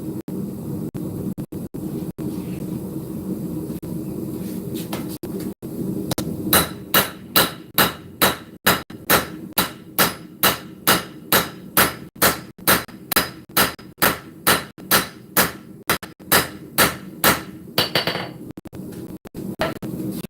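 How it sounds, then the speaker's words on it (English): Steady rhythmic hammer blows ring out on a knife blade being forged, around two dozen evenly spaced metallic strikes after a quieter stretch of workshop noise. "I'll start hammering back in and focusing on how neat I get it"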